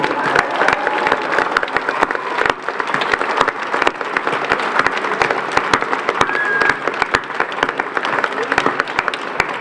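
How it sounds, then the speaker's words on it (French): Sustained applause from a sizable crowd at an inauguration during La Ferté-Bernard's 1000th anniversary celebration, dense steady clapping with a few faint voices mixed in, continuing throughout. "Laurent Philibert, que vous pouvez applaudir"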